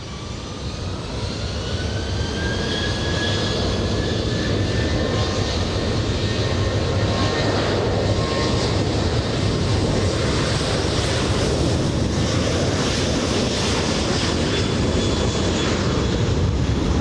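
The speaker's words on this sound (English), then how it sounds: "I think it's already clear for takeoff." Air Force One jet taking off at LAX airport, a loud, steady engine roar with rising whine that fills the whole stretch, mixed with wind buffeting on the microphone and no talking.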